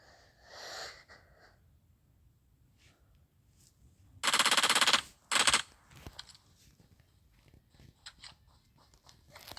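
A P90 firing in PUBG Mobile, heard as two loud, close bursts of automatic gunfire in quick succession, the first longer than the second, set against quiet game ambience and a few fainter sounds.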